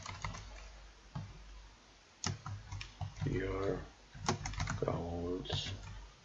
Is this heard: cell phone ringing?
no